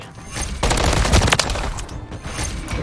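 Rapid, loud gunfire in Call of Duty: Modern Warfare III, a dense fusillade of sharp shots with mechanical clatter, continuing without pause across the whole stretch.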